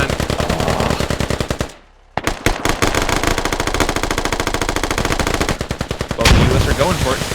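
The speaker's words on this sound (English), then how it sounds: "a lot of U.S. firepower coming in." Machine gun fire during a convoy ambush in the military shooter game Squad, long rapid automatic bursts close by with a short silent break and a louder blast near the end.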